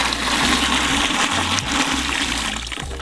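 A bucket being filled halfway with clean water before paint goes into a Graco 390PC cordless sprayer: a loud, steady gush of running water, close and continuous, with no talk.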